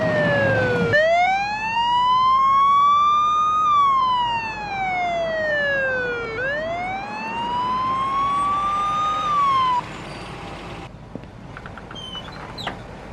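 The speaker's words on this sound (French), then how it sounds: "On dirait qu'ils ont jamais vu une voiture de flic." A police car siren wails loudly and close by, sweeping up and down in long slow cycles over low road rumble before cutting off abruptly, leaving faint background noise.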